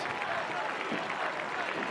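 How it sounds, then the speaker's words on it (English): Football fans from both teams at a Melissa varsity game against Denison give a steady wash of distant applause and crowd noise as an injured young player is escorted off the field. "There are the fans from both teams cheering on the young man who is being escorted off the field."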